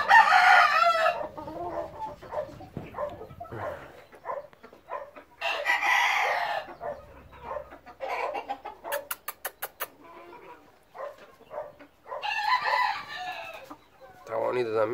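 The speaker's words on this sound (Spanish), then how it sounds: "Son todos pollitos para el 2020." Gamecock chicks cluck and roosters crow in bursts, some close and loud, with a quick rapid clucking run and quiet gaps between calls; no speech.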